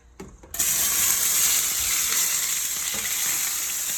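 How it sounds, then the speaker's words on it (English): Garlic sizzles loudly in a hot pan while a spatula moves it around, a steady bright hiss that starts abruptly and holds for several seconds with occasional scraping, no talking. "the first thing I'm going to do is add the garlic"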